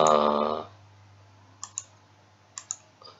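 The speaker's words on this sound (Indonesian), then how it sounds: "Ini kita klik menggunakan mouse" Computer mouse clicks on a virtual gamelan, sharp close clicks in quick pairs after a fading metallic note, with a faint hum underneath.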